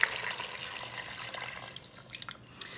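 A quart of water pours into a cooking pot in a steady splashing rush that tapers off, ending with a few scattered drips and clinks, fairly soft and without talk.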